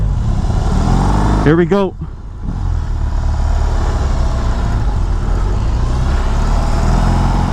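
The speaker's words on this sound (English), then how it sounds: "I am on the BMW R18, going for a test ride." A BMW R18 cruiser motorcycle pulls away on a test ride, its engine rumbling steadily and close by while the rider speaks briefly over it.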